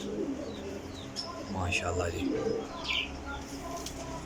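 Desi flying pigeons of the peepal-tree kind coo softly among scattered chirps, with someone speaking briefly over them.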